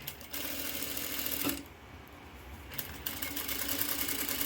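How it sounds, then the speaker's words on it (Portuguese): A sewing machine stitches along a fabric edge with the presser foot aligned to the cloth, sewing binding onto a hem; a steady close mechanical whir runs throughout with a brief pause in the middle. "venho passando uma costura aqui, alinhando sempre o pé da minha máquina com o final aqui do meu tecido"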